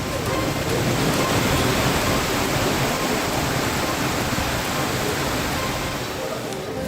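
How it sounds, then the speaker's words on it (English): Heavy rain falls in the Delhi national capital region as a dense, steady roar of rain on surfaces that holds loud and unbroken throughout. "Heavy rains were also reported in the national capital region."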